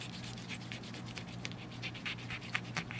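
Knife blade scraping across snook scales during filleting, a run of short dry rasping scratches, close and moderately loud, with no talking.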